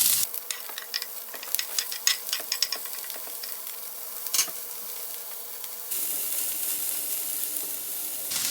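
Chopped breakfast vegetables sizzle steadily in a sticky pan coated with oil, with a few scraping stirs and clicks early on, then a louder, even frying hiss. No one speaks.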